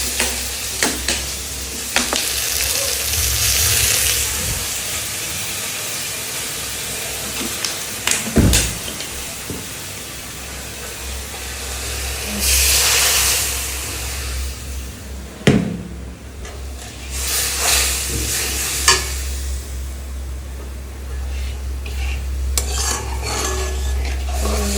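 Green chilli, fennel and ginger pastes sizzle in a hot pan as water goes in, with a loud hiss and steady frying, a few scraping stirs and clinks of a utensil, heard up close.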